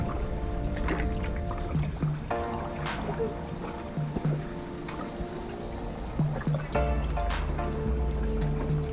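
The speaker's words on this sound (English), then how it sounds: "Kayaking into Small Lagoon." Kayak paddled by a group on a private island-hopping boat tour into Small Lagoon at El Nido, with limestone cliffs around: steady water sloshes and paddle strokes, plus a continuous background hum and scattered clunks, no speech.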